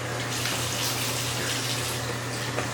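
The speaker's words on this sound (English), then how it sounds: "Alright, rinse my face" A tap runs steadily into a sink while a face is rinsed in a suburban bathroom, a close, even hiss of flowing water with faint splashing on top and no talk.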